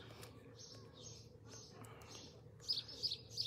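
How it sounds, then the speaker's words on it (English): Outdoors by Lake Garda near a cable car, birds chirp in short bright bursts over a low steady hum, faint at first and then a few sharper, closer tweets. "Listen to the birds."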